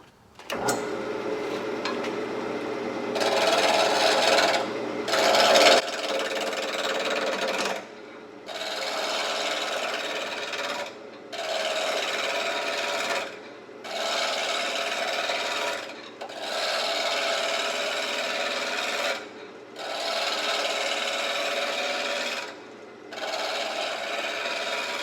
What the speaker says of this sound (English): as I travel, I can turn my gouge and use my gouge as I go along here